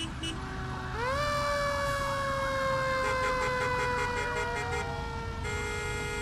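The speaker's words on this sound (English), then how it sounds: "Fire trucks have been passing by me throughout the day over here" Fire truck sirens wail loudly and continuously as emergency vehicles pass near Perth amid a city fire, with overlapping rising and falling tones that shift in pitch as a second siren joins.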